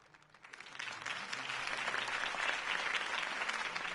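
Crowd applause at a campaign rally in the Batman Telltale video game rises quickly from quiet into a steady, dense clapping that holds for several seconds, moderately distant.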